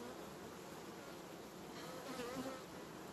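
Honeybees buzz around a hive frame in August, a soft, continuous drone at low level, with a few bees passing a little closer near the end.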